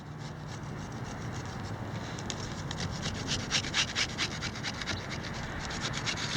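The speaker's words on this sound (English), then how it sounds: "I'm just going to take my putty knife and scrape off some of the ridges" A putty knife scrapes repeatedly across not-quite-hardened wood filler on a wooden surface, scraping off ridges, producing a steady, close rasping rub with no talking.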